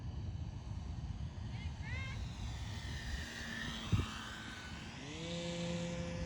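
A model MU-2 airplane makes a low pass, its engine whining steadily with rising and falling pitch as it passes close by. People talk faintly underneath, and a brief thump is heard near the middle.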